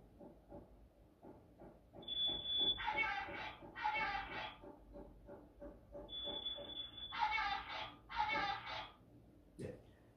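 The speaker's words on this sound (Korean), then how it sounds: "이 소리는 우리 집 천장에 달려있는 단독 경보형 감지기가 울리는 소리인데요" A standalone smoke detector on a house ceiling sounds in two cycles, each a shrill steady tone followed by bursts of harsh pulsed beeping, over a busy murmur of background noise.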